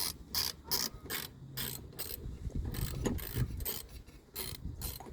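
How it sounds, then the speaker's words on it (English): A hand ratchet works loose the carburetor nut on a lawn mower, giving repeated bursts of close, loud pawl clicking in quick strokes with brief pauses between them. "just bring your ratchet and be careful"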